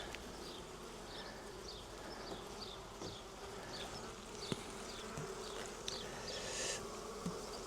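Honey bees in an open beehive make a dense, continuous buzzing during an inspection, with individual bees droning closer by at times and occasional faint clicks and handling noises.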